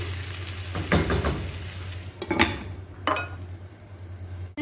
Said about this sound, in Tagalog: Haluin at takpan lang natin para maluto yung kamatis.